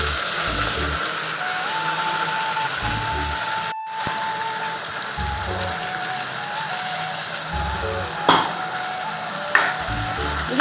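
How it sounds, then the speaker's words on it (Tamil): Onions browned in oil with ground masala added, sautéing for a Tamil egg curry, give a steady close sizzle with soft stirring scrapes, faint low thumps and a couple of sharp clicks near the end. "இந்த எண்ணெயில் நல்லா வதக்குங்க."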